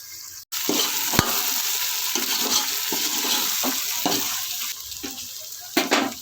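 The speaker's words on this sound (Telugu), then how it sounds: "బాగా వేయించుకోవాలి" Vegetable biryani ingredients frying in a pan: a constant close sizzle broken by repeated scraping stirs and clinks of a utensil, with one sharp knock near the start.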